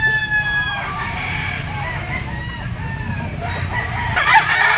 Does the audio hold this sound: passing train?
no